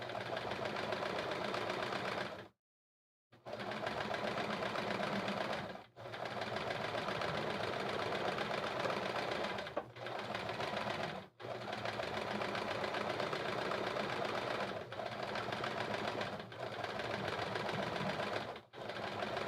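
A sewing machine runs in long continuous bursts while free-motion quilting alphabet blocks, its fast mechanical chatter steady and close, broken by a few brief stops including one clear pause near the start.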